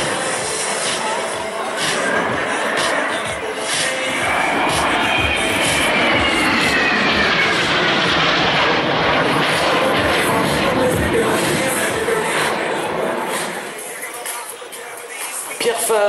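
Aircraft in close formation roar past overhead at an air show in Guiscriff, the sound swelling to a loud, broad rush and then fading away.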